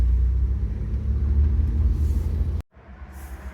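A Mitsubishi with a freshly repaired Aisin AW30-40LE automatic transmission pulls away, giving a steady low engine rumble close by that cuts out abruptly near the end, then returns more quietly.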